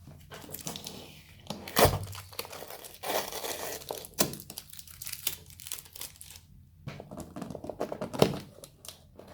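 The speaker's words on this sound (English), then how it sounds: "it's closed off with a bit of tape that we're gonna have to remove" Packing tape tearing off a brown Dell cardboard box holding an Inspiron Vostro 7590 laptop, with close crackling rips and crinkles, a sharp tear burst near the start and another near the end, no talk.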